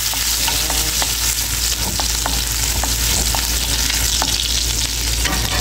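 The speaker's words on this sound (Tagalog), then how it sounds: "Naglagay na ako ng mantika. Ilagay na natin ito. Bawang." Garlic frying in hot cooking oil in a pan, a loud continuous sizzle with occasional light clicks of stirring, no voices.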